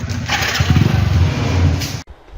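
A tractor engine cranks and catches, giving a loud, rough, rumbling chug for about two seconds before cutting off abruptly. No voices are heard.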